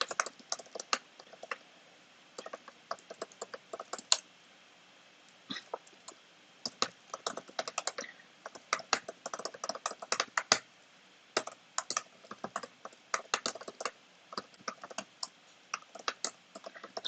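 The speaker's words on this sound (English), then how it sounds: "Sorry if you can hear my keyboard typing." Typing on a computer keyboard produces quiet, close, irregular bursts of rapid key clicks with short pauses between runs.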